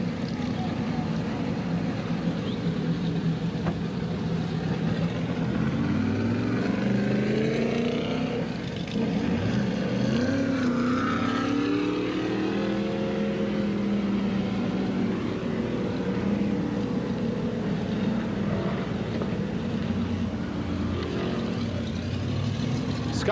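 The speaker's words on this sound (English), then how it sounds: "Scott Tobias pulls away in car number 17" Race cars pull away one after another at the NYS Fairgrounds speedway, their engines rumbling and rising in pitch, heard under a public-address announcer's talk.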